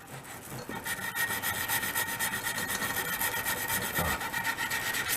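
A drywall sanding screen rasps back and forth over a homemade wooden mallet, close and continuous, with a quick rhythmic scratching and no talking.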